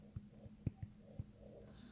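Pen or pencil strokes scratch across paper during a pre-algebra lesson, soft and close, coming in several short taps and scrapes over a quiet room hum.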